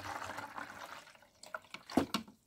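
Water pours into a toy fish tank in a short splashing burst with a few drips and trickles toward the end, fairly faint and close by.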